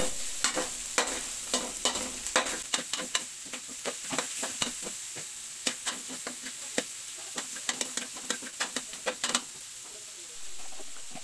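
Onions sautéing in a hot pan for palabok, a steady, close sizzle broken by frequent sharp scrapes and knocks from a spatula stirring them.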